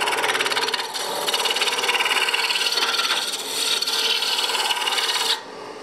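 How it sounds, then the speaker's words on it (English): A woodturning gouge cuts a spiral groove into spinning wood on a lathe, giving a loud, steady rasping scrape that runs nearly unbroken with slight swells before cutting off near the end. "The gouge makes a groove, concave. That's a spiral groove."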